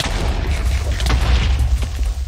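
Creeper pearl explosion in Minecraft, a loud sustained booming blast with deep rumble and crackling debris filling the whole stretch without a clear break.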